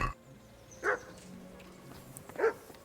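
Dog barking in Kingdom Come: Deliverance, two separate sharp barks about a second and a half apart, moderately close, over a faint low ambient hum with no talking.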